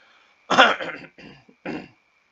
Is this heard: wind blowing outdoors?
no